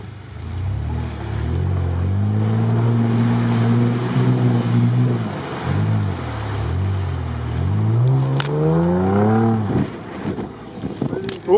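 Off-road engine rumble from a Lada Niva with a 3-litre V6, driving behind on a rough forest track, its note rising and falling with revving, while people talk nearby.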